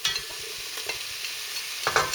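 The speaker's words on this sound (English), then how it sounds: "Fry the onions in the same pan" Onions sizzle and frying gently in a casserole pan over low gas, in the same pan just used to brown beef for a British stew in red wine, with soft stirring scrapes and a brief louder flare near the end.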